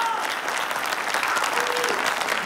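Steady applause from a studio audience, a dense wash of many hands clapping evenly throughout, with a faint whistle or voice tone rising briefly over it.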